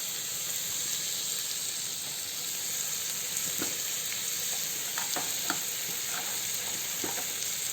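Mutton curry with ginger garlic paste and tomato sizzles steadily in a pan while being stirred, with occasional scrapes and clinks over a constant frying hiss.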